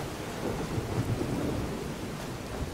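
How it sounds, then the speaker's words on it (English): Thunderstorm and rain in the video game Fallout 4: dense, continuous rainfall hissing under a low rolling rumble of thunder, steady and fairly close, with no voices. "now it's raining"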